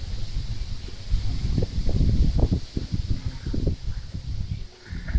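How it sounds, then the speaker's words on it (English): Strong wind gusts through Auckland on a stormy day, buffeting the microphone with rumbling, surging roars that rise and fall over a steady hiss. "Huge gusts of wind coming through, folks."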